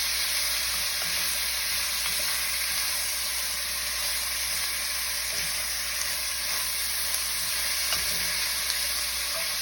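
Cured bacon fries and gets stirred in a pot as the base of a pilau, giving a constant dense sizzling hiss with faint occasional stirring clicks, close and unbroken, no voices.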